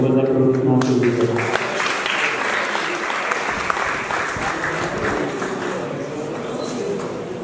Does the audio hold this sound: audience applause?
yes